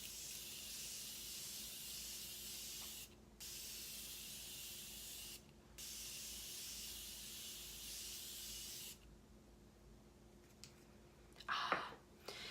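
Morphe Continuous setting mist sprayed in long, steady hissing bursts close to the microphone, three extended sprays separated by short pauses and followed by quieter rustling.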